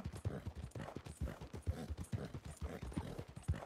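Horse hooves clip-clop steadily in a video game, a quick rhythmic series of soft, muffled footfalls heard alone at low volume.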